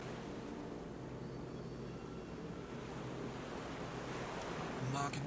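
Ocean surf washes steadily at a beach in the BTS Universe Story video game, a continuous broad wash of waves with soft wind, even and moderately loud throughout.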